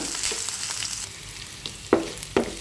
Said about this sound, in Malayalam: പച്ചമുളക്, കറിവേപ്പില ഇത്രയും ഇട്ട് കൊടുത്ത് നന്നായി ഇളക്കി 1 മിനിറ്റ് ഒന്ന് വഴറ്റിയെടുക്കുക.